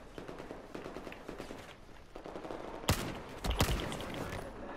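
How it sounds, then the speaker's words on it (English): Gunfire in the Battlefield 4 video game: a background of rapid distant shots, then two loud, sharp close bursts with ringing tails. "Oh, I thought it was an automatic weapon."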